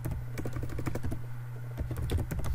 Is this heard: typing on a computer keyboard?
yes